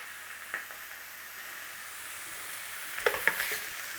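A beef patty for a Big Mac copy sizzles steadily in a pan, a soft continuous frying hiss with a few sharper crackles and spatters rising toward the end.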